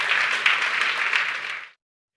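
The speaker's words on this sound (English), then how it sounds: "Let's give Kyle a big round of applause." An audience at a talk on chargeback operations applauds Kyle, a dense burst of many hands clapping at steady strength before cutting off abruptly into silence.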